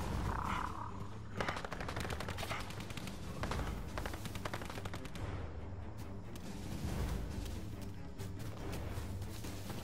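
A net-firing gun in a video game fires rapid repeated shots amid continuous gunfire and explosive crackle, steady and dense throughout, with no voices.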